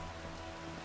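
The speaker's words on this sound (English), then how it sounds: "Oh, it's raining." Rain in the video game Minecraft, a steady, close wash of dense pattering that stays level and unbroken for the short stretch, with no voices over it.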